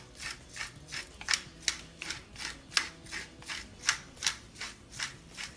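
Black pepper is ground into a slow-cooker mac and cheese, giving about a dozen evenly spaced, close, gritty grinding rasps in a steady rhythm, with no talk.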